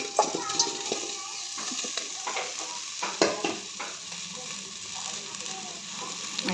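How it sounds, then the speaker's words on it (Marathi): Indian gooseberries (amla) tumble into a dry, heated pot over a gas flame and get stirred, giving a soft, steady sizzle with scattered scraping clatters, close by. "आता ह्यात आवळा टाकून घेते."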